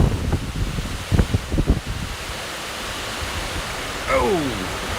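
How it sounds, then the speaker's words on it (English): Strong hurricane wind gusts roar as a broad, steady rush during Hurricane Delta, with some low thumps early on and a brief whistling tone near the end. "Whoa, big old gust of wind."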